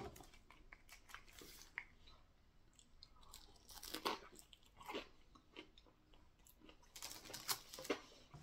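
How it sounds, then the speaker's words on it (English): Biting and chewing a Taco Bell Cheesy Chicken Crispanada dunked in spicy ranch, with crisp crunches that come in scattered bursts, loudest around the middle and the end, close to the mic with no talking. "I'm going to take another little bite, and I'm going to dunk it in this spicy ranch"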